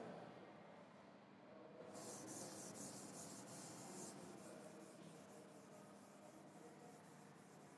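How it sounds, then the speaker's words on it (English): A classroom board is wiped clean with a steady, continuous rubbing and scraping that keeps going without breaks and grows slightly brighter partway through. "I will rub the board"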